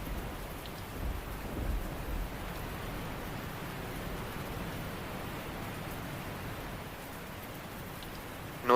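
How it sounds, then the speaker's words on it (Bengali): Heavy rain pours in a steady dense roar, with low thunder rumbling in the background, and no voices over it. "তারপর ঝমঝম বৃষ্টি,"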